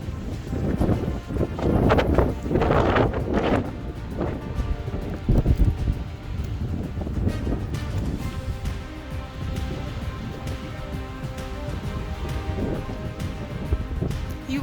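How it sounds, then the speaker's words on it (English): Strong wind blows across a national forest campsite, buffeting the microphone in heavy low rumbling gusts, strongest early on, then settling to a steadier rushing noise. "And it's so windy."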